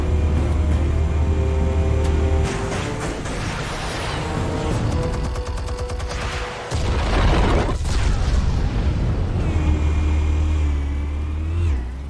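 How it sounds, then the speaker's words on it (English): Explosives detonate in the Batman: The Telltale Series video game, with heavy booming bursts in the middle stretch set against a loud, steady low engine-like rumble that drops out briefly and then returns. "Explosives armed. Fire when ready."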